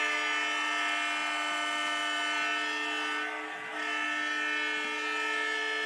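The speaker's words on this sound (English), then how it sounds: "there's the whistle. I think if you're a home team, that train horn's a lot more enjoyable." A train horn blows a loud, sustained multi-tone blast near a high school varsity football field, holding steady for several seconds with a brief dip in the middle.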